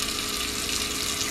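Tap water runs steadily into a cooking pot for boiling a few eggs, a continuous close splashing rush with no voices, cutting off abruptly at the end.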